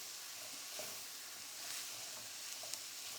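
Butter sizzling with mushrooms in a pan, a soft steady crackle and hiss with a few small pops, fairly faint and close, with no talking.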